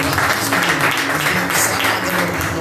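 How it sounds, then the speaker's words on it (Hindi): A church congregation claps together in a loud, sustained burst of many hands that fills the room evenly for a few seconds. "सब मिलके ताली बजाते"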